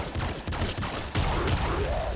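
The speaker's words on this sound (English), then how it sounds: "Just a screen-wide explosion that cleared all of the bullets." In the Nuclear Throne video game, a screen-wide explosion that clears all the bullets erupts as a dense, rumbling, crackling burst with a sharp renewed surge partway through.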